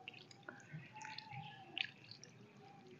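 A large fresh squash is washed in water, with faint scattered drips, soft splashes and squishy rubbing at close range over a quiet background, while a bird chirps faintly now and then.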